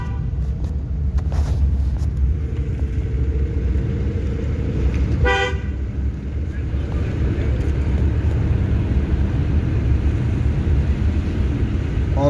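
A car moving slowly over a bumpy road during a driving-school lesson, with a steady low engine and road rumble close by and a short car-horn toot from nearby traffic partway through.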